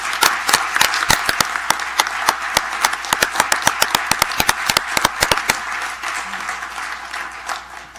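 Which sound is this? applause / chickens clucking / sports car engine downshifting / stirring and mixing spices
applause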